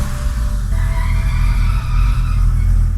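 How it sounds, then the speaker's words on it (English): A BMW 328xi E9X with the N52 engine squeals on startup, a thin steady whine riding over loud continuous engine rumble with a slightly fluctuating idle. "On startup, there's a little funky squeal and the RPMs fluctuate a little bit"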